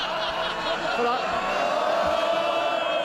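MPs in the House of Commons chamber during Prime Minister's Questions, a loud sustained roar of cheering and jeering voices filling the room, continuous and boisterous throughout.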